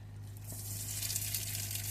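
Steady, bright sizzling of breaded chicken nuggets frying in a pan, continuous hiss with crackle, close and moderately loud, no talking.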